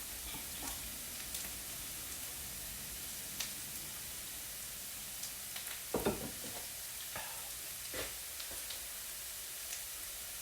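Onions searing in a hot pan give a steady close sizzle and hiss, broken by a few louder crackles and stirring scrapes, with no voices.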